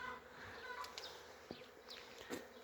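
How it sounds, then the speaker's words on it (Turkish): Faint, continuous buzzing of honeybees around, quiet and close, with a few small taps and rustles. "Binlerce arı bayram, yaz, kış demeden çalışıyor."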